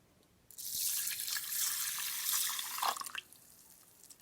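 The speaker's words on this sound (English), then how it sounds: "Put it into the other pan, a cup of water." A cup of water pours into a cooking pan for rice, a steady close splashing rush lasting a few seconds before cutting off.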